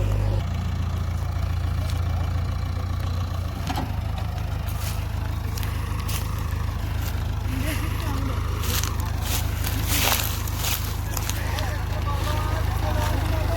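A JCB backhoe's diesel engine drones steadily at idle and mid revs, loud and continuous throughout, with occasional clanks and crunching as it works to free a trailer stuck after four tractors failed to pull it out.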